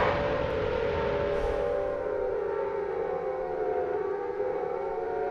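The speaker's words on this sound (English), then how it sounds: "Sirens." A steady, droning siren wail from the video game Silent Hill 1, sustained and unbroken over the whole stretch with no talk.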